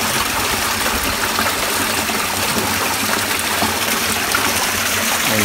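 A stream flows through a deep forest, a steady, loud and close rush of water that runs unbroken throughout with no voices.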